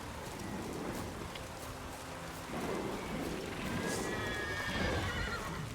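Roach, the horse in The Witcher 3: Wild Hunt, snorts and clip-clops through a rain-soaked scene with rumbling thunder, the hoofbeats and whinnies mixed under steady rainfall and game ambience.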